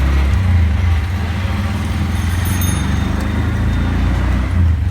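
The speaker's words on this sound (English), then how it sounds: "finally got onto a CNG to go to Grand Sultan" Inside a CNG auto-rickshaw riding through Sylhet, Bangladesh, a steady loud low engine drone with road rumble and light traffic noise continues unbroken throughout.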